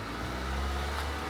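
A car engine, raised to about 2,000 RPM for servicing, holds a steady, close, even drone for the whole moment with no break.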